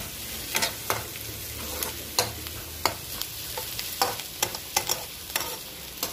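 Food fries in a pan on the stove, a soft, low sizzle under repeated sharp scrapes and knocks of a spatula stirring at an uneven rhythm, close by.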